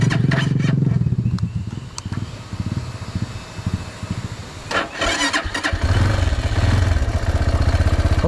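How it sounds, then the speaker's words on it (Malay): A motorcycle that keeps stalling on a rough jungle trail runs, dies, then is cranked and revived with a clattering start before the engine settles into a loud, close idle. "Motor ni saya tak tahu kenapa dia asyik mati nak start tu payah sikit."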